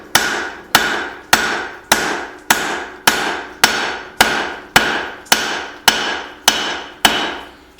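A hammer strikes a hatchet head being forged and tapered, about a dozen loud, evenly spaced metallic blows with ringing decay, close by and without talk.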